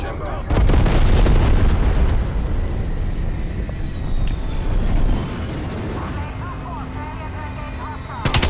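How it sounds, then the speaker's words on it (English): Napalm strike explosions in the video game Call of Duty Black Ops Cold War: loud booming blasts up front that settle into a sustained rumbling roar, with a voice speaking over it. "napalm strike inbound."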